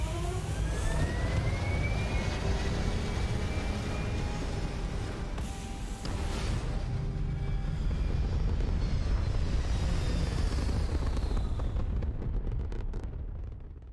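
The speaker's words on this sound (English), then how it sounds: "All thrusters firing." Spaceship thrusters firing in a space exploration video game: a loud, steady, broadband rumbling roar that holds for about fourteen seconds with faint whooshing sweeps over it, then thins out near the end.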